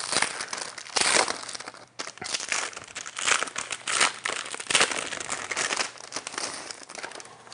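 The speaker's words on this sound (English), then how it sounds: "Let me remove some of the plastic." Plastic wrap is peeled and crinkled off a new, thin Apple keyboard, with loud close bursts of crackling and rustling in irregular waves and no talking.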